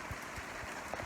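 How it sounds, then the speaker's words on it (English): Heavy rain pours down on a sailing boat in winter off the Croatian and Greek coast, a steady dense hiss with a few faint patters and no voices. "It started to rain. It was an okay day, and instead now it's pissing down."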